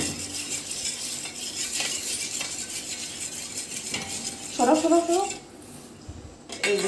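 A spoon stirs sugar into two beaten eggs in a bowl, making repeated light metallic clinks and scrapes close by, with a voice briefly talking near the end.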